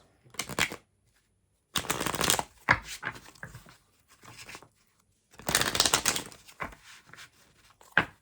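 Tarot cards are shuffled close by in several quick, papery riffling bursts separated by short pauses, with no voices.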